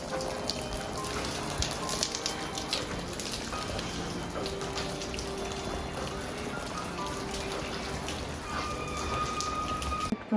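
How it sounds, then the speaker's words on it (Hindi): Rain falls steadily at a resort in Sonamarg, a dense, even patter of drops on surfaces running the whole time without a break, fairly close and moderately loud, with no talking. "तो बारिश भी स्टार्ट हो गई है।"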